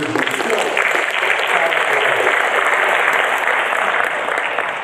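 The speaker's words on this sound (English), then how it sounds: "Brother Gray, I don't think I heard that last comment because they were clapping." A crowd claps steadily and loudly throughout, a dense wash of applause that fades slightly at the end.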